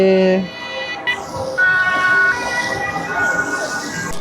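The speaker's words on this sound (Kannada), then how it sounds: "ಆಂಬ್ಯುಲೆನ್ಸ್ ಬರ್ತಾ ಇದೆ." An ambulance siren passes near Marienplatz in Munich, its loud wailing tones rising and falling over street noise.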